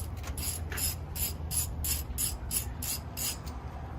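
Rapid ratchet clicks ring out in a steady rhythm as spark plugs are loosened on an engine, about nine crisp bursts close by, with no talk.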